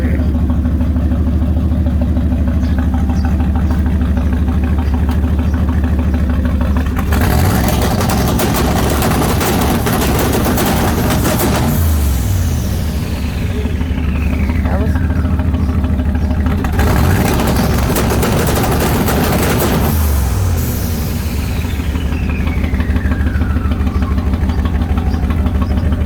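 Twin-turbo 1954 Cadillac engine being revved on a two-step anti-lag launch control, loud and close, with two long roaring bursts separated by rough idle and crackling pops.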